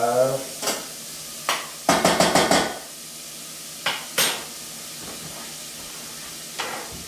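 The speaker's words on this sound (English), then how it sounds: "We're just going to let this saute for a little bit so it gets a little tender." Vegetables for spinach pie saute in a pan, with a low sizzle beneath a series of sharp clanks and rapid scraping from a utensil stirring against the pan, close and loud, without speech.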